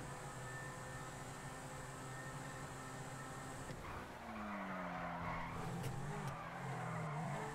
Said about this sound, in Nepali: फ्रन्टमा त झन्डै ठोक्दै यस्तो ड्रिफ्ट हान्दै हिँडिरहेको थिएँ